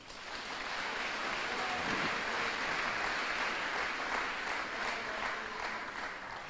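Church congregation clapping to acclaim the Lord, a broad, dense wash of applause from many hands that swells in and holds steady, fairly loud and unbroken.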